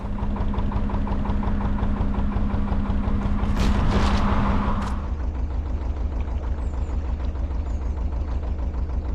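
A canal narrowboat engine chugs steadily at low pitch, running continuously with a brief louder burst of rattling midway.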